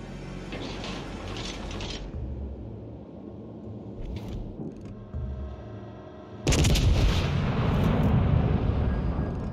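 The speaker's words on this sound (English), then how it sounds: "Give me that juicy Seattle broadside." A warship's gun broadside in a naval video game, Seattle class: dense rumbling booms with mechanical clatter, easing briefly before a loud sustained barrage returns.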